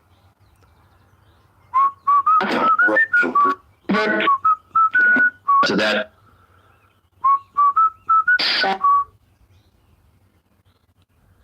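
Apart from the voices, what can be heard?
whistled tune of Pop Goes the Weasel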